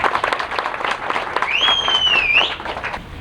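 An audience at a CPM political meeting claps in a loud burst that rises and falls, with a sharp whistle cutting through midway.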